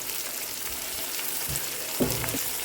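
Chopped onions with salt frying in a pan for a squid roast, a continuous close sizzle with a couple of soft thumps of stirring near the end and no talk.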